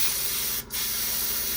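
An airbrush sprays white paint onto a scale model's air brake bay, a loud, close, continuous hiss that breaks off for an instant and then resumes.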